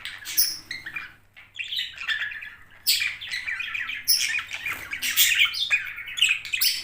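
Albino budgerigars chirp and squawk in bursts of bright, rapid calls, several birds overlapping at close range with brief pauses between flurries.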